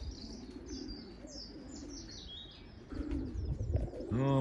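Young green bar and checker racing pigeons near a garden, cooing and chirping softly at a distance over steady outdoor background noise, a louder cooing call near the end.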